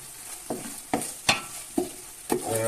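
Macaroni stirred and roasted in a hot pan: five or six distinct scraping strokes at a steady, unhurried rhythm over a faint sizzle, close and fairly loud.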